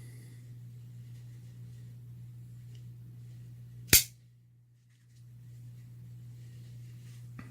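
A Buck 110 Automatic Gen 2 knife blade springs open with a single sharp, loud snap standing out against a steady low background hum.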